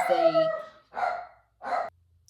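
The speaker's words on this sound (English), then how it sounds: "He decided he had to bark." A dog barks three times in quick succession, close and fairly loud, with short silences between the yips and a faint hum under the last pause.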